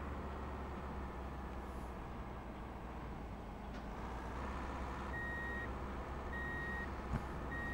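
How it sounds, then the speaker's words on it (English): A small van reverses in a driving video game, its warning beeper sounding three evenly spaced steady tones over a constant low engine hum. "Warning, this little van is reversing."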